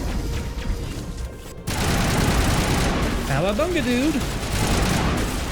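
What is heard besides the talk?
assault rifle gunfire in video game Mass Effect Legendary Edition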